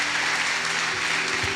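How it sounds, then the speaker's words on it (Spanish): Dense, continuous clapping from a large church congregation at a revival service, loud and even, with a low murmur of voices underneath. "Denle un aplauso al Señor."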